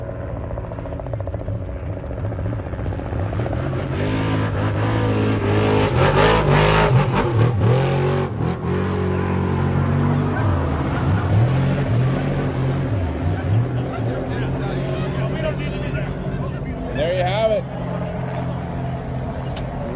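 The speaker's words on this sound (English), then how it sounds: "Let's listen to the motor sing." Off-road race vehicle at the start of the Parker 425 desert race, its engine roaring and revving loudly and continuously up close, with a broad rumble and a surge in the middle.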